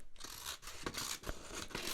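Close-up ASMR sound of scissors snipping, several crisp cuts in an uneven rhythm, very near and soft, with no talking.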